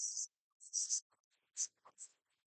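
Pen or pencil scratching numbers onto paper in a math lesson, several short crisp strokes in quick bursts with small pauses, close and clear against a silent background.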